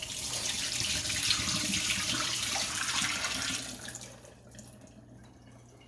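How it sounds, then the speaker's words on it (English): Hot water pours from a pot into a kitchen sink as corned beef and cabbage are drained, a loud steady rushing splash that tapers off to a few trickles and drips. "I'm going to drain the water off of this so it's ready to go"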